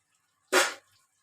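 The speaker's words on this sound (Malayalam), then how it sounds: "ഞാൻ ഈ ഗ്ലാസ്സിൽ ഒരു 3/4 ഗ്ലാസ് വെള്ളം ഒഴിച്ചു കൊടുക്കുന്നുണ്ട്" Water poured from a glass into a pan of simmering fish curry, a single short splashing gush of about a third of a second, close and fairly loud, then silence.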